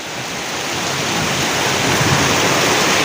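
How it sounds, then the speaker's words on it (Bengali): Heavy rain pours down on trees in a continuous dense hiss that builds slightly louder over the few seconds, with no voices. "এত সুন্দর বৃষ্টি ডারে উহ শরীরটা ডান্ড হয়ে গেছে"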